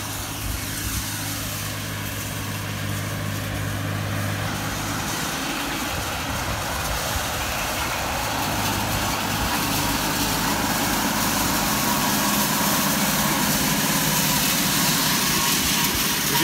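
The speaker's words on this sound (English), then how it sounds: "here comes the tedder first and then the baler's behind it" A hay tedder and a baler work a field, and a steady engine drone runs through the whole stretch with a broad machinery roar and no pauses.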